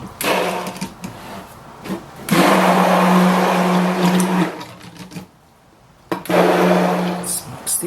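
A handheld blender whirs through cold process soap batter as fragrance is mixed in, running in several steady bursts with short pauses and a quiet gap between them, and no voices.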